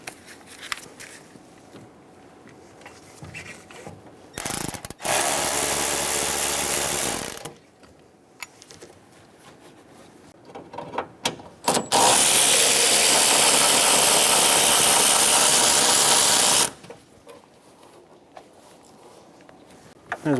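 Two loud, steady bursts from a power tool spinning out 10mm bolts from the air box of a 2014-2018 Chevrolet Silverado, one short and one longer, with quieter ratcheting and handling noise between them.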